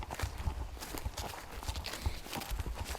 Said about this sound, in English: those horses came out